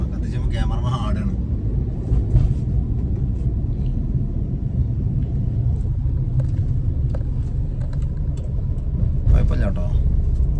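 A car driven hard on a test drive, its engine a steady loud rumble throughout, with people talking over it.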